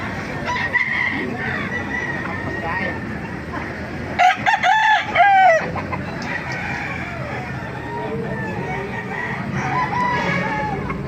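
A talisa gamecock rooster crows loudly once, close by, amid a busy outdoor market with other fowl clucking and people talking in the background.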